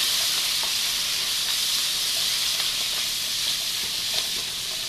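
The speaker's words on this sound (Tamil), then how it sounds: "இந்த coriander leaf, mint leaf add பண்ணிட்டு இதையும் நல்லா வதக்கணும்." Onions sautéing with fresh coriander and mint leaves for chicken biryani, a steady, loud, even sizzle with faint stirring ticks and no talk throughout.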